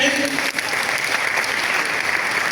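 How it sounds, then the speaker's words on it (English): Audience applause at a career strategy talk for students, dense steady clapping from a crowd throughout, loud and close, with a brief voice at the very start. "We are going to walk and you are going to clap, right?"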